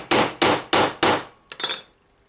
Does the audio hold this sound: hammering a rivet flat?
yes